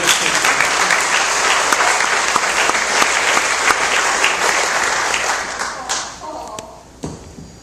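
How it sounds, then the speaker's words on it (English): A church congregation claps together in loud, dense, sustained applause that carries on for several seconds before thinning out and fading near the end. "And so if you'd clap to make them feel a little better."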